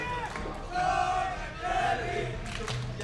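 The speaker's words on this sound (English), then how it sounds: "I really hope you can hear the crowd" A large crowd at a Guilty Gear Strive esports fighting-game tournament roars and chants in waves, a dense, sustained wall of cheering voices that swells and dips slightly.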